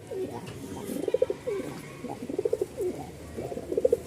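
A male tumbler-cross pigeon coos in a string of soft, rolling, throaty calls, repeated several times in quick bursts close by against a quiet background.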